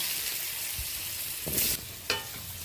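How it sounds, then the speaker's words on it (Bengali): Potatoes fry in oil in a kadai wok, using oil left over from frying fish. A steady, close hiss of sizzling runs throughout, broken by a couple of brief scraping stirs near the end. "তারপর আলুটা ভেজে নিচ্ছি"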